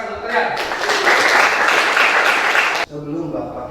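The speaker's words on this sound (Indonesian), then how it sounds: "tepuk tangan untuk kalian" A burst of applause from a group swells for a few seconds and then cuts off abruptly, with a voice speaking before and after.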